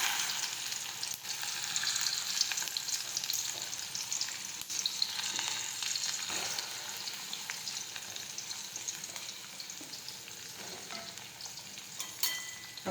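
Okra tossed into hot oil with garlic, mustard seeds, cumin and asafoetida fries with a steady, bright sizzling hiss that carries on for several seconds, with occasional faint stirring knocks.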